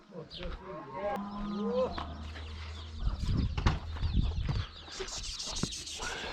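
Cattle and chickens call amid farmyard bustle, with people shouting and talking in Turkish over the animals as they are driven along during a seasonal migration to highland pasture.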